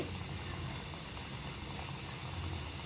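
Small pieces of wheat biscuit dough frying in hot oil, giving a steady, dense bubbling sizzle that holds at an even level throughout with no talk.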